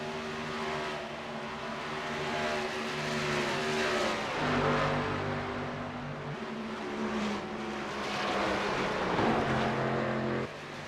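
Stock race cars roar around an oval track during the 2019 Feast and Furious 250, loud engines droning and revving steadily as cars pass close, with pitch shifts as they accelerate and sweep by.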